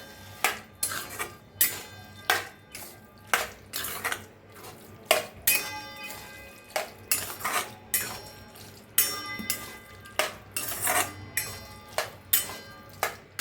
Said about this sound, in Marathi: ह्याच्यात अंडी सोडून घेऊया आपण, बारीक केलेले अंडी, आणि मिक्स करून घेऊया